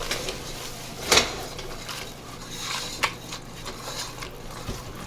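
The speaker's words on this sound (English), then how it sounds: "I'm going to use a whisk, and we're going to whisk that in there" A whisk scrapes and taps against a cooking pot while flour is stirred in for bacon mac and cheese, with soft scraping and a few sharper metallic clinks, near and unaccompanied by talk.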